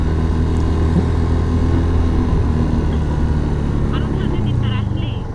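A Yamaha FZS V3 motorcycle rides along a hilly road, its engine a steady close drone mixed with wind rumble and a faint whine near the end.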